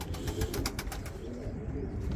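Pigeons coo and flutter close by, soft repeated calls over a busy low rumble of background noise, with no talk.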